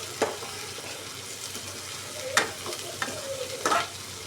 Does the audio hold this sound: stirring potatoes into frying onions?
yes